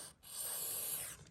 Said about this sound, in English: take a little of this silicone spray here